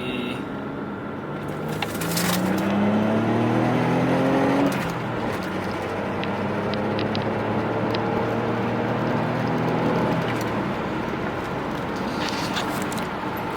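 A tuned Saab wagon making about 400 lb-ft through a turbo pulls hard in second gear from 30 mph. The engine note climbs steadily, then carries on as a loud, continuous drone with road and wind noise.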